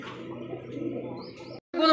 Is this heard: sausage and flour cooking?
no